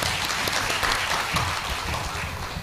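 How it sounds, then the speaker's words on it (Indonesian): Sustained applause from an audience at an Islamic Quran-school gathering in Indonesia, a dense steady wash of clapping that holds loud throughout the short stretch. "kita beri tepuk tangan ke beliau sekali lagi"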